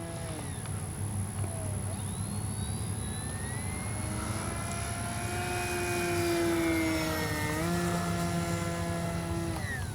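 FMS CJ-6 V2 RC model warbird plane on its first flight, a steady engine drone with a rising and falling pitch as it passes overhead, heard from a distance against outdoor background noise.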